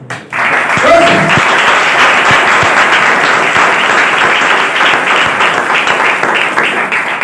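Loud, sustained clapping from a crowd at a Christian church service fills the whole stretch, steady and dense, with a brief voice near the start.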